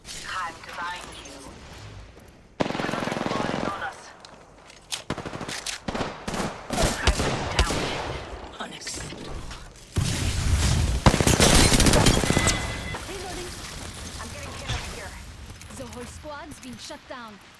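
Gunfire in the video game Apex Legends: bursts of rapid automatic shots and single cracks come in uneven clusters, loud and close at times, mixed with game voice lines and mechanical clatter.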